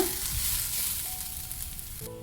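Onions frying in a pan on a stove, a steady close sizzle with light stirring that continues without a break and thins toward the end.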